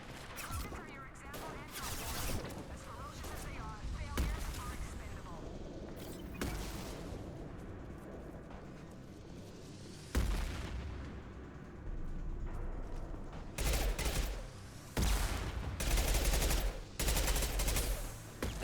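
Gunfire in the video game Mass Effect 2 from a sniper rifle and other weapons, with repeated sharp shots and heavy blasts over a busy battle soundscape. No one speaks.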